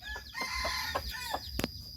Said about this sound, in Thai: นี่ไก่พื้นบ้านอันนี้ครับ